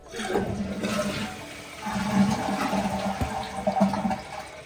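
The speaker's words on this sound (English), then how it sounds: "So let's do a test flush and make sure nothing binds or gets stuck." A toilet flushes after a universal trip lever is installed, giving a close, loud gurgling rush of water that swirls and drains for several seconds with no talk.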